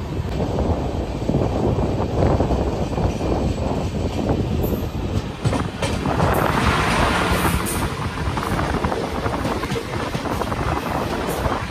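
Running noise of the Kongu Express passenger train on its Coimbatore to Hyderabad route, a steady broadband rumble and rattle from the rails that holds at a constant loud level for the whole stretch, with no voices over it.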